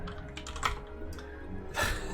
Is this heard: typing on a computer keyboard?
yes